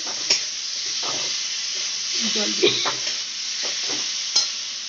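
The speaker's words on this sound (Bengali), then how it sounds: "ভেজে রাখা আলুগুলোর সাথে মশলাটা ভালো করে মিশিয়ে নিচ্ছে" Fried raw plantain pieces are stirred with a spice mixture in a sizzling pan, a steady close hiss broken by scraping, clattering spoon strokes, with faint talk in the background.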